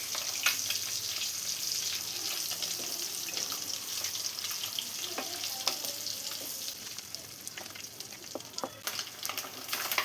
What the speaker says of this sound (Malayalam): എഗ്ഗ് ഒരു സൈഡൊന്ന് ആയി വരുമ്പോൾ ഒന്ന് മറിച്ചിട്ടിട്ട് ഇതൊന്ന് ഓയിലിട്ടൊന്ന് ഫ്രൈ ചെയ്തെടുക്കാം